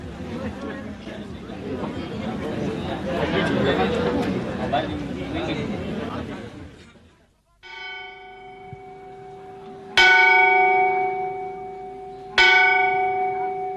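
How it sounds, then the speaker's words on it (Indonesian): The gajah mungkur bell at the Cirebon palace rings out during the night Panjang Jimat ritual. A crowd murmurs first, then two loud, resonant strikes follow several seconds apart, each decaying slowly. "seorang anggota keluarga keraton membunyikan lonceng gajah mungkur, tanda acara Panjang Jimat dimulai"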